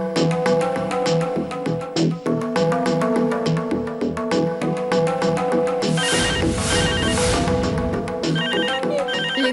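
A phone ringtone in a Telugu TV serial scene plays loud and continuous, a repeating electronic melody with steady pulses that fills the whole stretch with no voices over it.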